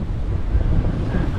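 Wind and waves on a secluded beach at Miyajima make a dense, steady low roar with no voices, close and continuous for the whole moment.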